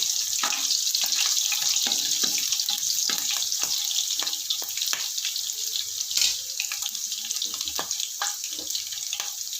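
Four chopped green chillies sizzle in oil in a pan, a continuous hiss of frying with scattered crackles and pops, fairly close and alone.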